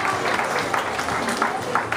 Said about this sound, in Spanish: un aplauso para Raúl